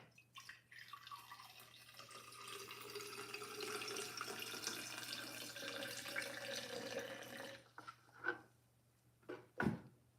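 Water pours into a tall vase while a bouquet is being arranged, a steady filling stream whose pitch rises for several seconds, then a few drips and splashes as it stops.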